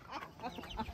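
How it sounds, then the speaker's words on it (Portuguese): Hens in a farm henhouse, among chicks at feeding time, cluck softly in short irregular calls at a fair distance, faint and with no voices. "as galinhas estão tudo expulsando os pintinhos para comer"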